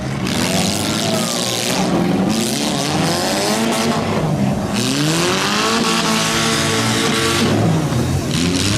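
Demolition derby cars racing around a figure 8 track with a jump in Barrie, Ontario, engines roaring loudly and continuously, with rising and falling revs and tire noise throughout.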